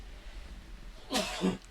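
A single sneeze bursts out at close range after a stretch of quiet room tone, a sharp broadband burst with a short voiced tail.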